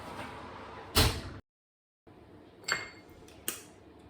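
An oven door being opened and shut to put salmon in, two or three separate clunks and clanks with a brief silent gap between them, close and fairly loud.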